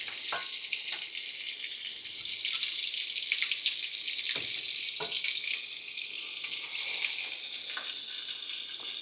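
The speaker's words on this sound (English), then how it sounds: "I'm going to fry these about 3 minutes on each side" Ground beef country fried steaks sizzle and crackle in hot grease, a steady close frying hiss broken by sharp pops and spatters, with no talking.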